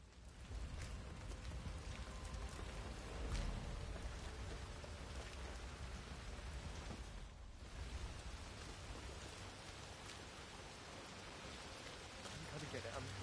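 Rain in a video game pours steadily as a dense, hissing wash of drops on surfaces with a low rumble underneath, continuous and fairly loud, with a brief dip midway.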